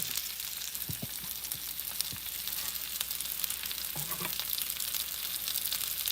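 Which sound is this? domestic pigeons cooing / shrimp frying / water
shrimp frying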